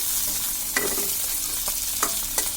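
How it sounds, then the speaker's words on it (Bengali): Dried fish (shutki) roasting in a dry pan for a mashed bharta, a steady soft sizzle broken by a few sharp stirring scrapes and clinks, close and alone with no voices. "আমাদের শুটকিটা টালা হয়ে গিয়েছে, এখন আমরা এটাকে নামিয়ে ফেলবো"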